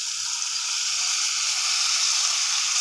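Bitter gourd slices frying in a pan with salt and turmeric give a steady, close sizzle that holds evenly from start to finish, with no voices.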